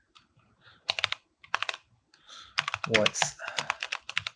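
Someone types a query on a computer keyboard, with quick bursts of crisp key clicks close up, and a voice speaks briefly over the typing.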